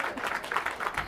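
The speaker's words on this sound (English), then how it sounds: "we can give him an extra round of applause" Applause from a summit panel audience, a short burst of scattered, fairly distant clapping with an irregular patter lasting about a second.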